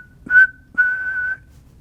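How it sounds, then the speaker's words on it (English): Two whistled tones, a short note and then a longer held one, pick out a few notes of Billy Joel's Uptown Girl, clear and close, with quiet pauses around them. "I'll give you like 3 or 4 notes as I'm whistling."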